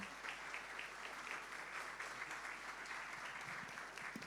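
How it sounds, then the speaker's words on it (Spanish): An audience at an international beekeeping seminar in Ñuble gives a strong round of applause welcoming Dr. Edgardo Sarlo to the stage, a steady crowd of clapping hands at moderate, even loudness. "le pedimos por favor un fuerte aplauso para recibir al doctor Edgardo Sarlo"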